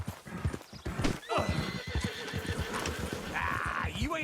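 A horse in the video game Red Dead Redemption 2 clip-clops steadily along, hooves sounding close and rhythmic, then lets out a clear neigh near the end, with faint background voices.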